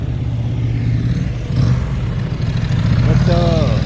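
A Chrysler convertible rolls past at a classic-car cabriolet gathering in Louhans, its engine a steady close rumble that swells slightly partway through, with people talking over it.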